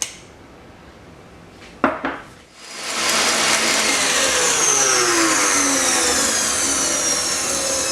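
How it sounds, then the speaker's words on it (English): Steady whisking of egg whites with sugar in a mixing bowl, a dense continuous whirring hiss that starts after a few clattering knocks and holds loud and even through the rest, with no talking. "Now into a mixing bowl, add the egg whites and start whisking it until it comes to a soft peak,"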